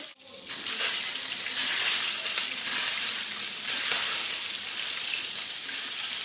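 Eggs frying in hot oil for egg korma, a loud, dense hissing sizzle that starts abruptly and holds steady, with a few brief pops and no voices.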